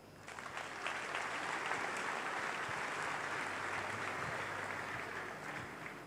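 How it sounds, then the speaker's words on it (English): A church congregation applauds at a sermon, a dense, even clapping that swells in, holds steady for several seconds and tapers slightly at the end, heard from a moderate distance without any speech. "Clap for him."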